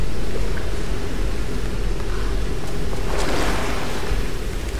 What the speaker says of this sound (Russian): Тут же водопад везде